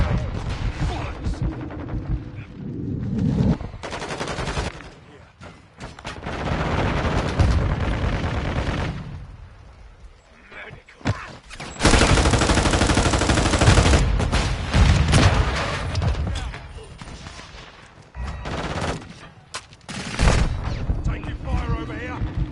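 Bursts of automatic gunfire and heavy blasts from a Call of Duty: Modern Warfare II match during the Haunting event, loud and dense, separated by quieter stretches, with radio-style game voices mixed in.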